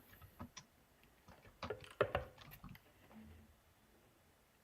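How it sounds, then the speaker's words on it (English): Computer keyboard typing during a live stream: faint, irregular clusters of light key clicks, quiet and close, with a brief denser burst of taps midway and no talking over them. "He's typing again, people. We always lose you when you start typing."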